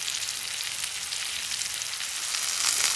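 A pot roast sears in a hot pan with a steady, close, hissing sizzle that swells slightly toward the end, with no voices.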